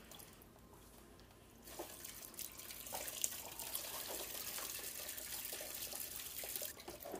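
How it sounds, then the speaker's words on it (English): Used coolant drains from a 2002-06 MINI Cooper radiator into a tilted bucket, a steady liquid trickle that swells into a fuller, continuous pour after a couple of seconds, close and without speech. "I like to pull the bucket out and tilt it over to allow any to drain so it doesn't spill everywhere."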